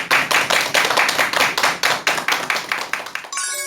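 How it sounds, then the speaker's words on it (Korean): An audience claps in a dense, steady burst of applause for a lecture on a Korean broadcast, loud and close, running for several seconds without speech before fading at the end. "여러분 큰 박수 부탁드립니다"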